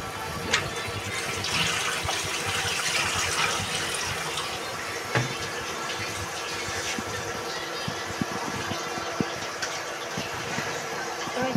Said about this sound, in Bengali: এই তো লাউ তো ধুয়ে রাখছি